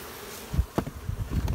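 Close honey bee buzzing at a hive with a broad, droning hum that swells and fades, marked by brief louder bursts and no voices.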